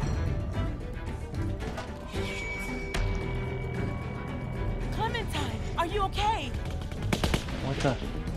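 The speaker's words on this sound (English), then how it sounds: "A machine gun." Automatic rifle fire in The Walking Dead Season Two video game, fairly loud dense rattling bursts mixed with game sound and shouting voices across the scene.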